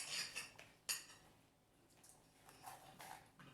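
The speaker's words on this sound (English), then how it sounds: "you're cutting it in little thin slices like that" Knife slicing a cleaned-out bell pepper into thin strips on a cutting board, giving a few sharp close cuts and clicks of the blade against the board, separated by quieter gaps.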